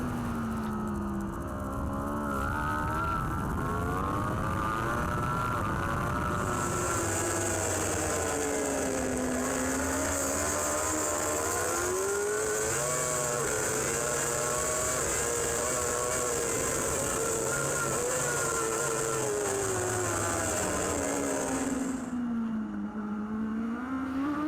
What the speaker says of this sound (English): Here is Brad Ray, number 28 on the Raceways Yamaha.